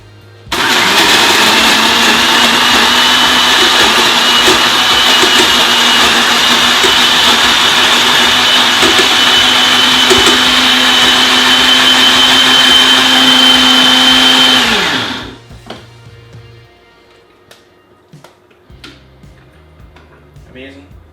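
A blender blitzes breadcrumbs with a teaspoon of Italian herbs, a loud steady whir running for about fifteen seconds before winding down and stopping, followed by faint kitchen clatter.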